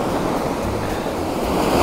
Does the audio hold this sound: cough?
no